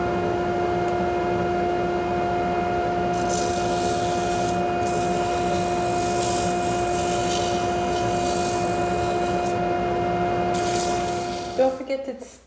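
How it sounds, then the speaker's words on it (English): Sandpaper rubs against a spinning wooden wine glass stem on a lathe, a steady close abrasive hiss over the motor's humming drone, easing off at the end. "when I sand it, I'll just sand the edges clean"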